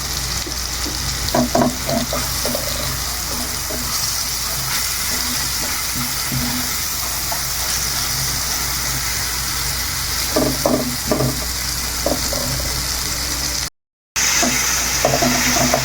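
Spice masala with chili powder sizzles steadily in a pan for a shrimp do-pyaza, with scattered scraping stirs in bursts, close and fairly loud, continuous throughout with a brief drop near the end.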